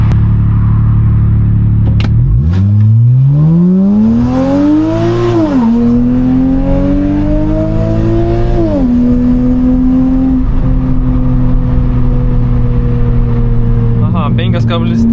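An Alpina car accelerates hard on a road after winter storage, its engine note climbing through several gear changes with rising tones and a loud, close rumble; a voice speaks over parts of it.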